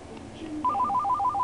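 A phone ringtone plays in a home, a bright repeating two-tone electronic melody that starts after a brief low tone and continues steadily at close range, with no talking over it.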